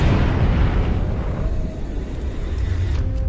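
A small explosion in a film scene, set off by gunfire, that kills a prehistoric monster: a sustained, loud, rumbling blast with a dense, roaring body that holds steady for several seconds.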